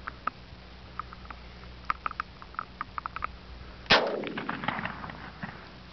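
A shotgun fires once outdoors, a sharp loud blast with a ringing tail, after a stretch of faint ticks and small knocks.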